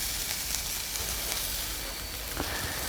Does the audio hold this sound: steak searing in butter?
yes